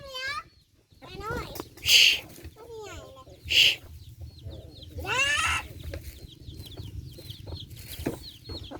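Chickens cluck and squawk in several short, loud bursts close by, with softer clucking in between, while people talk casually in the background.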